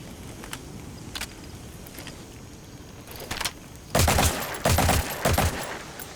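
Gunfire with tracers in the video game Metal Gear Solid 5 crackles in scattered single shots, then breaks into loud sustained automatic bursts near the end.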